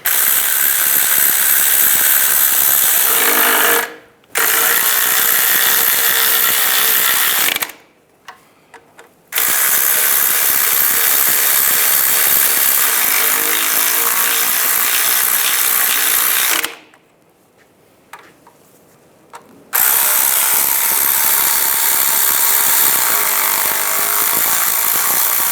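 A ratchet tightens the mounting bolts on a 1998–2010 Volkswagen Beetle power steering pump, loud rapid mechanical clicking in long runs broken by brief pauses.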